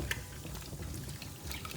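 White vinegar pours into a basin of water prepared for washing fruits and vegetables, a steady close liquid splash and trickle running the whole time with small drips on top.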